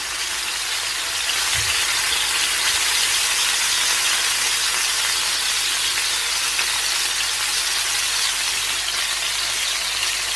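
Chicken tikka pieces frying in a hot pan just after being turned, a loud, steady, dense sizzle that holds without pause throughout.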